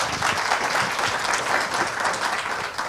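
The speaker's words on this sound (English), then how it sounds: "Let's have a round of applause." A studio audience gives a dense, steady round of applause for a guest on a televised interview programme, continuous clapping throughout.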